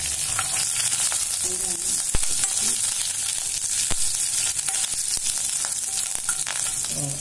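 Curry leaves and garlic fry in hot oil with a loud, constant sizzle, dotted with crackles and a few stirring clicks.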